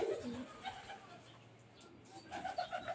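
Domestic pigeons cooing nearby in a loft, soft low murmuring coos repeating in short phrases, fairly quiet, with faint background rustle.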